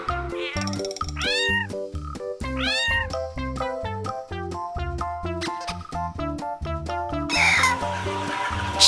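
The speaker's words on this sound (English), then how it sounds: "Cat." A cat meows several times in rising and falling calls. The meows sit over a bouncy music track, and a short burst of a different animal call follows at the end.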